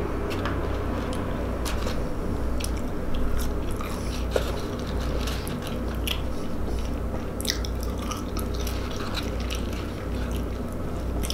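White Castle fries eaten right at the microphone make continuous wet chewing, crunching and mouth sounds that carry on without pause and without talk.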